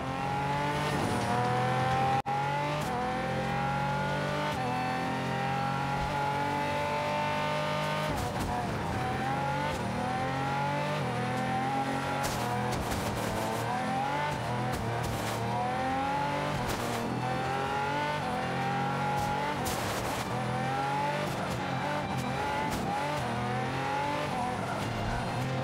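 A race car speeding along a track in the Forza 5 video game, with a loud, constant engine roar rising through gear changes, interrupted by brief squeals of skidding tires.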